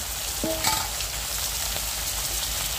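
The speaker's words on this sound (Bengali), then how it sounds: "মাছটা হলো ভর্তা বানানোর জন্য হলো ভাজা হইতেছে" Steady, dense sizzling of fish frying in hot oil in a wok, close and continuous, with a brief metallic clink near the start.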